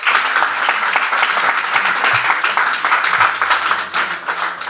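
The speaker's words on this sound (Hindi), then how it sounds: "तालियां हो जाएं" An audience at a poetry performance gives loud, steady applause, a dense wash of many hands clapping evenly throughout, close and full, with no talking over it.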